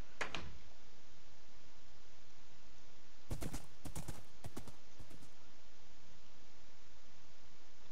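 A few hollow horse hoof clops in the game DayZ sound in short bursts over a steady hiss, with no voices present.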